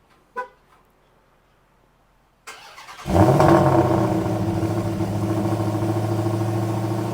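A Dodge Challenger SRT Demon 170 sits quietly, a brief click sounds, then its engine cranks and fires into a loud rumbling idle that holds steady and close.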